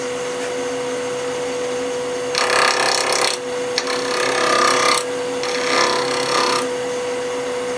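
A wood lathe turning a piece of acrylic at about 2,000 RPM, with a steady motor hum and three loud bursts of broadband scraping as the round cutter on a half-inch bar bites into the spinning acrylic.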